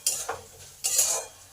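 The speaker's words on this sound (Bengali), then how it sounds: "ডালগুলোকে একটু লাল লাল করে ভেজে নেব।" Washed urad and chana dal with a green chilli frying in oil until reddish, heard as a few short scraping stir bursts with a soft sizzle between them, close and fairly quiet.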